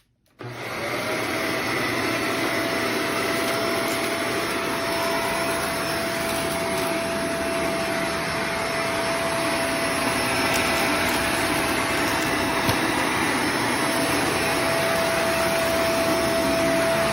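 A Shark Vertex Powered Lift-Away vacuum cleaner runs continuously at close range, a steady loud whine with a high motor tone and airflow hiss holding unchanged throughout, with no talking.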